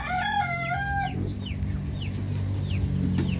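Darag native chickens on a farm: a hen's drawn-out calls open, followed by repeated short clucks and chirps over a low rumble of background noise.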